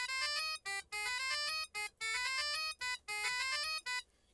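A short melodic riff from a My Singing Monsters island plays as bright, bell-like synthetic notes in quick, choppy bursts. It is clear and isolated, with no talk.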